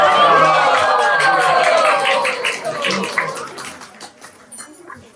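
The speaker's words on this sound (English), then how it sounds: "Please, a big round of applause for Hari Bol to Raviraj Prabhu." A crowd at a devotional cultural program claps and cheers for a performer, with loud, dense applause and whooping voices that gradually fade over several seconds.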